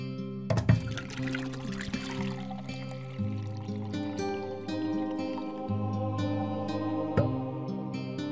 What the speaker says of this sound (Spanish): Llenad las tinajas de agua.